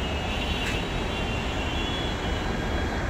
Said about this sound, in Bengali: ওই যে স্টেডিয়াম, এই মেট্রো ঢুকছে